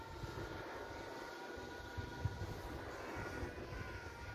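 Drone flying high overhead outdoors, heard as a steady, faint, broadband engine-like whir with a soft tonal hum, continuous and distant, with no talking.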